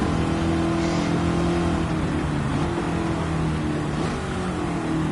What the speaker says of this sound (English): Oh, I love the sound of this car